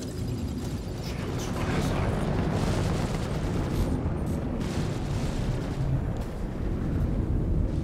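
In the space game Star Citizen, an Eclipse stealth bomber launches a torpedo: a heavy, continuous low roar with rumbling bursts that holds steady and loud for about eight seconds.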